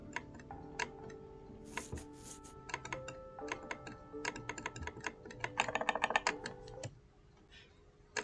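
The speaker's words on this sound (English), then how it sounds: "I assume you can kind of hear me clicking even" Computer keyboard keys and mouse buttons click rapidly and irregularly during PC gaming, close and fairly quiet, with a denser burst of typing near the end over faint background game sound.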